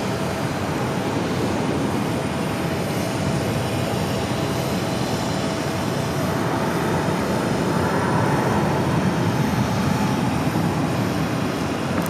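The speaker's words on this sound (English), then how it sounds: "That is United Airlines 1686 coming in from Denver on the A321neo." A United Airlines Airbus A321neo arrives at Phoenix from Denver on landing. Its engines make a steady, broadband roar that fills the whole stretch and swells slightly near the end, with no talk over it.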